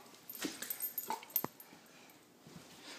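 A dog whimpers and lets out a few short, faint yips, close by in a quiet room, in brief bursts that fade toward the end.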